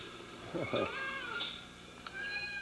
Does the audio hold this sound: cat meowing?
yes